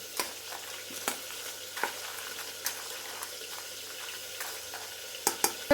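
Tomatoes and onions fry in a pan with a steady, close sizzle, broken by occasional sharp clicks and taps from stirring.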